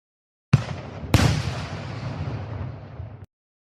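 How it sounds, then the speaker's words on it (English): Fireworks go off inside a store, a sudden loud bang followed by a second sharper blast about half a second later, then a long crackling, hissing tail that cuts off abruptly after a few seconds. "Now we better run off before we all get severely burned by the fireworks."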